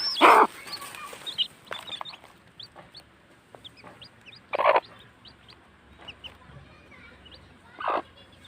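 Small chicks peep softly and steadily while feeding near a hen, whose louder clucks come in a few sharp bursts, all close by in an outdoor yard with no talking.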